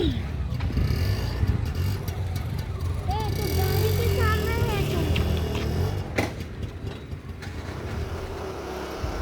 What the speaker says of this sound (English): So we are driving near the entrance of the Shivalayam